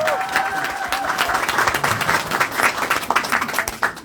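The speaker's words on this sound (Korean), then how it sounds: "여러분, 큰 박수 다시 한번 부탁드리겠습니다" Loud, sustained applause fills a packed campaign office opening in Dongtan, Hwaseong, as supporters clap steadily for the candidate, with crowd voices underneath.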